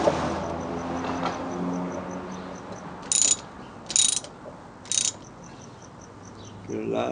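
Ratcheting clicks while tightening the metal throttle grip clamp on a 48cc Chinese motorized bicycle, three short bursts of clicking at even intervals over a faint background hum.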